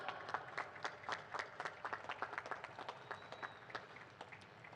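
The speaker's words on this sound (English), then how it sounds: "let's give them a big round of applause" Sparse, distinct clapping from a modest crowd greets the podium finishers of a Porsche Carrera Cup Middle East race at Abu Dhabi's Yas Marina Circuit, individual claps audible and fairly distant throughout.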